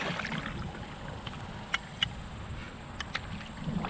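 Paddle strokes from a 12 ft DIY foam and fabric kayak on the water at Sugar Land Memorial Park, with soft splashes and drips over a steady low rumble of wind.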